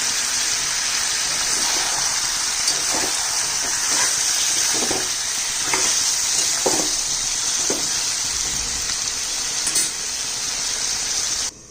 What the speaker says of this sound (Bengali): একটু জল দিব, দিয়ে নাড়বো।